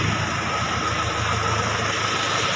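A freshly overhauled engine runs at the exhaust pipe, a loud, steady, dense rumble with no breaks and no voices.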